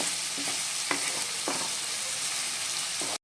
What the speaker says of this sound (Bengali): পেঁয়াজটা কিন্তু আমাদের একটু ভালো করে কুক করে দিতে হবে, যতক্ষণ পেঁয়াজটা সোনালি না হয়ে যায় একদম